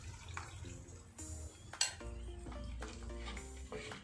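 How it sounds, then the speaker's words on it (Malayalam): Chilli chicken masala sautéed and stirred in a pan on a low flame, with steady soft sizzling under repeated scraping and clinking of a spoon against the pan, close and moderately loud, no talk. "ഇനി ഒരു 5 മിനിറ്റ് നമുക്ക് ഇതൊന്നിങ്ങനെ വഴറ്റിയെടുക്കുക"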